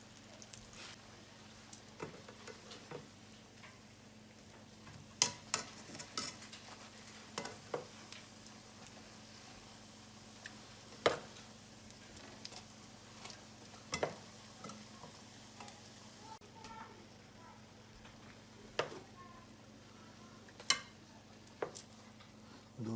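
Spam fries in a pan, a faint, steady sizzle with scattered sharp crackles and pops, some close and crisp, running on without talk.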